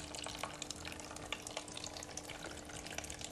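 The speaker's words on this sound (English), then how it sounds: "The jet of water misses the mark and lands to the right." A jet of water splashes and patters into a Coriolis turntable experiment, giving a faint, steady, noisy wash of liquid sound with no voices.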